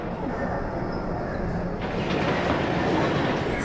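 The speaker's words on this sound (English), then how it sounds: "We are taking a train to the baggage claim." An airport train carrying passengers to baggage claim gives a steady rumbling ride noise with faint rail rattle, a broadband hiss that swells slightly partway through, near and continuous with no clear speech.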